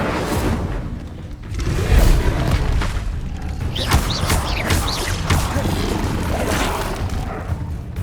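An Incendio fire spell in Hogwarts Legacy erupts in loud booming whooshes and crashes amid dense, continuous combat noise, with several bursts following one another.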